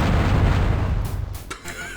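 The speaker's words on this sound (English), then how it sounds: "I wasn't expecting such a dramatic explosion" A large explosion in the video game Descent gives a loud rumbling blast that fills the first second, then fades into scattered crackles and a few sharp pops.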